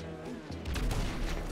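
Gunfire in a multiplayer shooter video game, a burst of rapid overlapping shots erupting after a quieter opening, fairly loud and dense through the rest of the moment.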